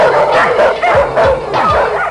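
Many dogs bark and yip together at a crowded rural animal shelter in Niterói, loud and close, with overlapping bursts, high whimpers and rapid barks rising and falling in waves.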